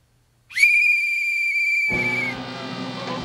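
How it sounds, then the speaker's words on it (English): After a moment of silence, a special ice skating whistle is blown loudly in one long, piercing, sustained blast, which then gives way to a rougher, lower tone. "Oh, I just heard the loudest whistle that I've ever heard."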